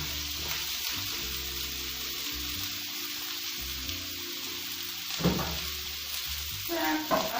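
Grated potatoes fry in a pan with a steady, close sizzle that runs throughout, broken now and then by soft stirring and scraping sounds.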